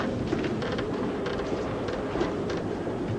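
A train in motion in a 1941 British film, a continuous heavy rumble with rhythmic clacking that holds steady throughout, no talk over it.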